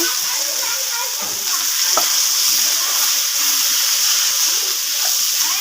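Bathua greens hit hot oil with a loud, continuous sizzle and hiss, close up, with a few soft knocks as the leaves settle in the pan.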